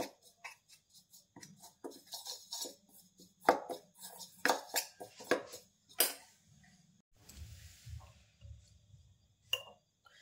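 A spoon mixing a yogurt marinade for tawa paneer in a bowl, with quick irregular clinks and scrapes against the dish, fairly quiet and close, ending in a softer stretch of stirring.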